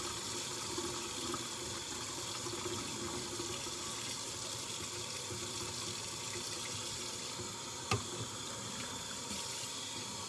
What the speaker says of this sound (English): Wash my brother's plate here that he had his turkey on.